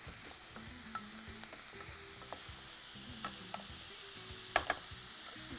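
Food frying in a pan is stirred with a spoon, giving a soft, continuous sizzle under repeated scraping strokes and a couple of sharp clinks near the end, with no talking.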